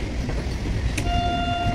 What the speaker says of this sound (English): Accident relief train,